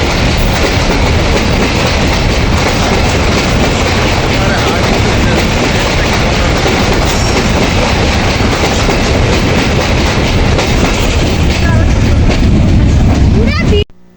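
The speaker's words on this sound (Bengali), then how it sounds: "একেবারে আমরা ওঠার সাথে সাথে ঝকঝক করে একটি ট্রেন চলে গেল" A train crosses the Hardinge Bridge, a long steel railway bridge, with a loud, continuous roar and rhythmic clatter of wheels on rails very close by, steady throughout before cutting off abruptly.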